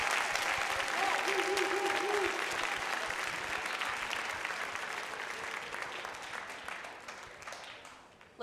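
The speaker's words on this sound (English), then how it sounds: "Let's have another round of applause for Joe and Love for a Child" Audience applause at a high school Charity Week kick-off event, a dense sustained wash of clapping that starts loud and gradually fades out.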